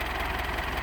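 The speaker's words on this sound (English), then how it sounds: "We got a real nice International 574. It's a diesel" A diesel International 574 tractor engine idles steadily with a low, even rumble and faint knock, close and alone.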